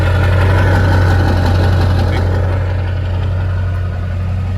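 Built Ford F250 with a studded, deleted 7.3 turbo diesel idling close by, a steady loud low rumble with a faint knocking texture throughout and no talk.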